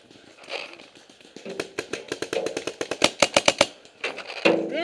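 Video game gunfire crackles in a rapid burst of sharp shots that grow louder and quicker, then stop before a final short rattle.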